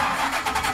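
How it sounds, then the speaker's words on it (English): An airboat engine cranks up in a brief, close, rough burst of engine noise. "Look at, listen, how easy it cranks up."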